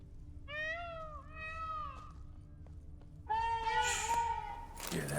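Cats meowing in the game The Witcher 3: Blood and Wine, several drawn-out, wavering meows in sequence with short gaps, clear and close over a low ambient game hum, ending in a brief noisy burst.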